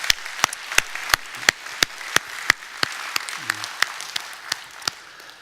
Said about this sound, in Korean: 우리 박수로 우리 올려드립시다